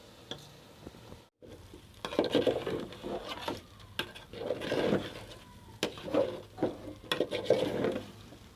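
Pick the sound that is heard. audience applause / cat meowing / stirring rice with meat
stirring rice with meat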